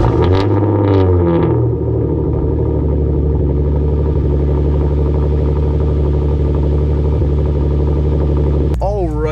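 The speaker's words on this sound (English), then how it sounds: "I just started the car up, as you guys saw" A Hyundai Genesis Coupe engine cranks and catches, then settles into a steady, low idle rumble that holds close and even for several seconds before a brief different noise at the end.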